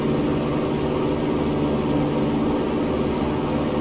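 A small propeller airplane engine roars steadily at full power during a missed approach, a loud, constant drone from inside the cabin with no break.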